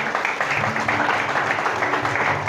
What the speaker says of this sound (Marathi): टाळ्या वाजवू शकता देवासाठी?